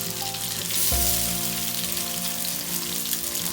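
Marinated shark fish fries in a pan over a low flame, a dense, steady hiss of sizzling oil close by, with a soft thump as the frying begins to swell, continuing evenly throughout.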